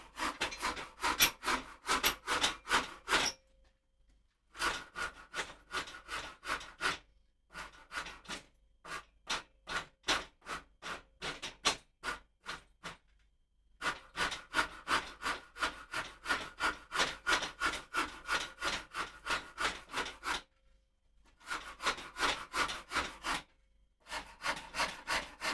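Rhythmic rasping strokes on a wooden guitar neck as a bevel is carved, with bursts of quick back-and-forth scraping separated by brief pauses, close and steady with no talking.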